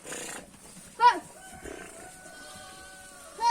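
Sheep bleat in a village farm pen, a few short wavering calls rising over a quiet barn background, one near the start and another at the end, with someone talking throughout.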